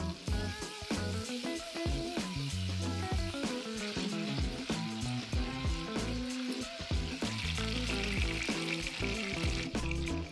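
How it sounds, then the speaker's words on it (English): Pieces of lean pork butt sear in hot oil in a pan, a loud, dense crackling sizzle with frequent pops and spits running continuously throughout, no talking. "Cook until they get these nice grill marks on all sides."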